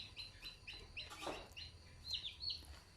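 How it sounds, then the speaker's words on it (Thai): Chickens cluck softly and repeatedly, with a few higher chirps mixed in, fairly faint against a quiet background. "ไก่"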